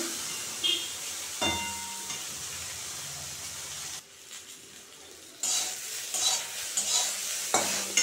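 Okra frying in a little oil with turmeric, a steady close sizzle and hiss broken by stirring scrapes and clatters in the pan, briefly dropping quieter before flaring up again.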